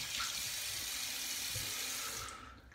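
Water from a sink tap running steadily and close while a face is rinsed after shaving, a broad hiss that fades toward the end, with no talking.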